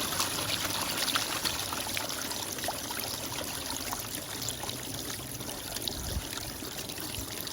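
Water flows steadily through a gold prospecting sluice outdoors, a constant rushing, trickling wash with no talk, holding an even level throughout.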